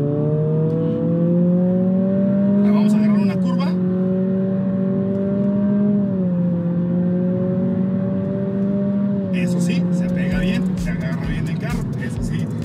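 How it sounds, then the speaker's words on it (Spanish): An Acura Integra A-Spec turbo engine pulls at full throttle, a steady droning tone that rises and sags slightly as it accelerates, heard from inside the car with someone speaking over it and brief wind-like bursts. "Yo voy a pisar el acelerador hasta el fondo"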